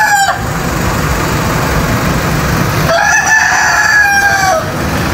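Rooster at a roadside stopover crowing loudly and close, two long drawn-out crows separated by a stretch of background noise, with no talk over them.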